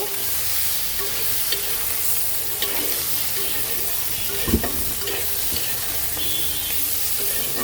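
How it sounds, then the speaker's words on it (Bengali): Chopped onions frying lightly in a pan for prawn and potato curry, giving a steady close sizzle with occasional stirring scrapes and a few clicks throughout. "আমি দুই এক মিনিট একটু হালকা ভেজে নেব"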